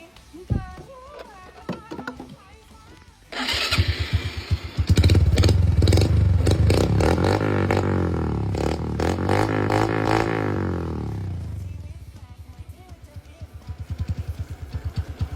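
Motorcycle with its original stock engine started by hand, catching with a burst and idling in a loud, fast, sputtering clatter close by, then fading back toward quiet background noise.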